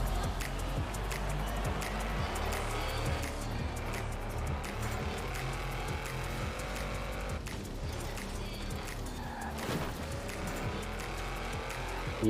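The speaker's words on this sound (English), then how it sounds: "Alright, let's just roll out in the Jeep." A Jeep rolls out in a video game, its steady engine drone running loud and continuous with occasional tire squeal and skidding over a dense game soundtrack.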